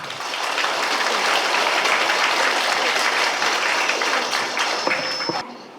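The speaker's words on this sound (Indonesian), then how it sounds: "Marilah kita beri tepuk tangan yang meriah." Hearty applause from an audience at a school Maulid Nabi event, a thick roar of many hands that swells in quickly, holds steady and loud for several seconds, then thins out toward the end.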